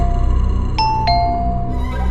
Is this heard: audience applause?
no